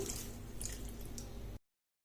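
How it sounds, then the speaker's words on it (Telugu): Bottle gourd dosa batter being mixed by hand with water added, giving soft wet squishing and dripping sounds close by for about a second and a half before cutting to silence. "ఇప్పుడు మనం కొద్దిగా వాటర్ వేసుకుంటూ పిండిని కలుపుకొని పెట్టుకోవాలి."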